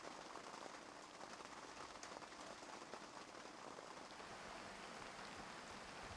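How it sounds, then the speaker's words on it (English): Steady rain falls in the African bush, a dense, even hiss of drops on leaves and ground that runs unbroken throughout with no voices. "It's just really nice to have a lot of rain in this area."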